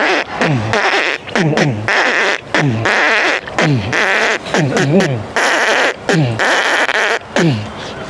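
A voice imitates an airplane landing in a youth festival mimicry act: loud, close, repeated bursts of rough, swooping vocal sound with short gaps between them.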